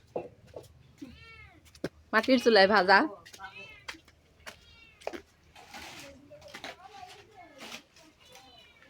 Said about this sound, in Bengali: এখানে বিড়ালে ডাকতেছে